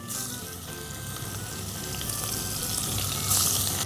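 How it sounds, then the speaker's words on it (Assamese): Fish pieces sizzle steadily in hot oil in a kadai, a close, dense crackling hiss that grows slightly louder toward the end. "তেলখিনি এতিয়া গৰম হৈ গ'ল তাত মই ইয়া মাছ কিপিছ দি দিছোঁ"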